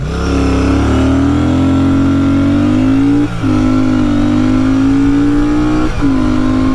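A Royal Enfield Shotgun 650 or Hunter 350 motorcycle accelerates hard through a 0-60 run, its loud, close engine note climbing steadily with two brief dips at gear shifts before rising again.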